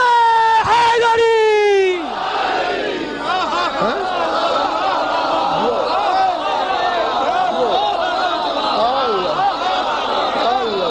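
A lone voice calls out the religious slogan Nara-e-Haidari, and a large crowd answers with a loud, sustained roar of chanting that fills the rest of the moment.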